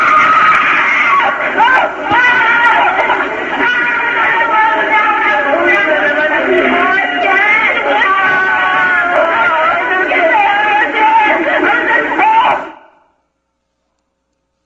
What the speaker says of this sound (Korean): 그 몇 시간 동안 울고 또 울면서 질렀던 그 비명의 소리인데요